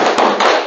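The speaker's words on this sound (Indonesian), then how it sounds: "mari kita tepuk semangat dulu" A group claps out a rhythmic spirit clap, a few sharp, loud, closely spaced hand claps in quick succession, near and brief.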